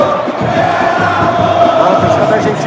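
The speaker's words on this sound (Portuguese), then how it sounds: "A torcida da Argentina sobe o som forte" Argentine football fans chant loudly in a packed stadium at a Brazil versus Argentina match, a dense, steady crowd roar with a sustained sung tone running through it.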